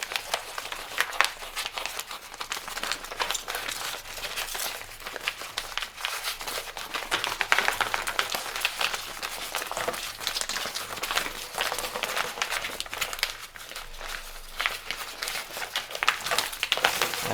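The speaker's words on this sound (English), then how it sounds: "So I just take my aluminum tape, kind of crumple it up a little bit just to get some texture in there." Aluminum tape crumpled by hand for a concrete countertop edge form, giving continuous close crinkling and crackling that runs steadily for the whole stretch with no talking.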